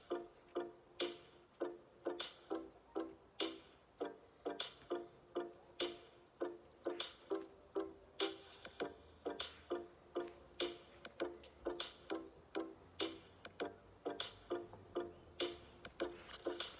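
A quiet, steady clock tick runs alone at an even rhythm of roughly one tick per half second during a home core workout timer, with no talk over it.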